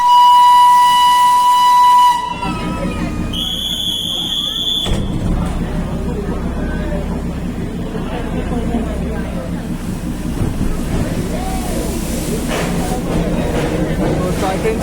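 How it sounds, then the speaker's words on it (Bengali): A Darjeeling Himalayan Railway steam toy train sounds a long whistle, then a second shrill multi-tone whistle blast, and pulls away with a steady rumbling, hissing roar. Voices are faintly audible in the background. "টয় ট্রেন ছেড়ে দিয়েছে।"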